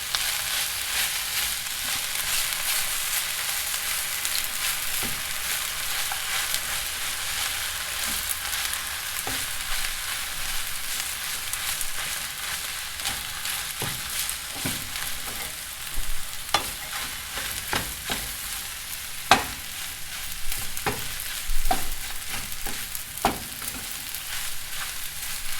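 Meat stir-frying in a hot skillet for fried rice, a dense continuous sizzle with occasional spatula clicks and scrapes growing more frequent later on; close, no voices.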